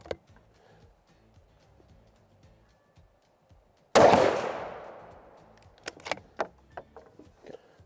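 A SIG Cross Sawtooth rifle in 6.5 PRC fires its first rounds on a range: one loud, sharp report with a long decaying tail, then several fainter clicks and clatters of handling.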